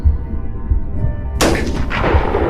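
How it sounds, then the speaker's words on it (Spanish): A single sharp gunshot cracks out in a tense narrated roadside checkpoint story, a loud sudden blast with a ringing tail over a low rumbling bed. "el primer disparo"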